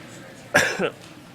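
A commentator at a Pokémon city championship coughs once, a sharp burst followed by a smaller second hack, close to the microphone against a quiet background.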